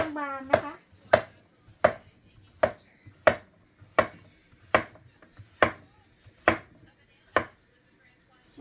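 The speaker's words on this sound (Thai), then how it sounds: "เดี๋ยวเราก็จะหั่นเป็นชิ้น" A knife chops sliced mushrooms into pieces on a cutting board, about a dozen sharp, evenly spaced strikes in a steady rhythm, close and clear, with a brief voice at the start.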